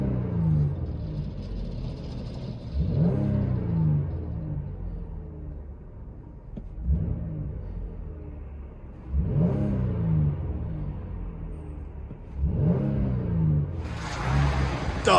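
A 2016 Dodge Durango Limited with a 3.6L V6 and its rear resonator deleted, heard repeatedly revving in several bursts, each rising and falling with a deep exhaust drone between, fairly close and without speech.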